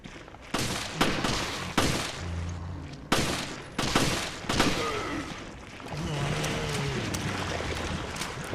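Gunfire in the video game Resident Evil: Revelations: a series of loud, sharp shots with bursts spaced roughly a second apart, some followed by ringing tails, then a lower rumbling ambience near the end.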